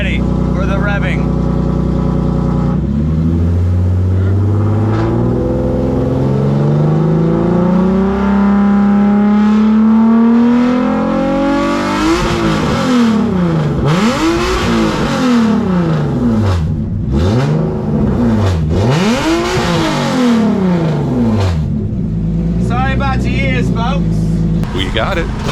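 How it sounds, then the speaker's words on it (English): A race car engine in a drift event pit area revs hard up close, climbing steadily and then bouncing through repeated rising and falling sweeps, loud over a busy background with people talking. "Are you ready for the revving?"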